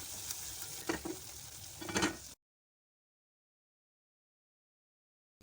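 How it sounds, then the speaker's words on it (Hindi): Masala spices and tomatoes fry in a pan for a chicken kofta and potato curry: a steady close sizzle with a few stirring scrapes, then it cuts abruptly to silence. "मुझे अच्छी तरह से दोबारा से मसाले को भून लेना है।"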